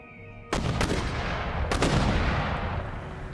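Mortar shells fire in Empire Total War: a sudden loud launch boom, then a second crack and a later heavy blast, all over a dense, rumbling battlefield roar that carries on to the end.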